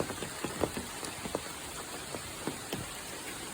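Rain patters through a hiking trail in a steady soft hiss, with scattered louder drops striking close by at irregular intervals and no talking.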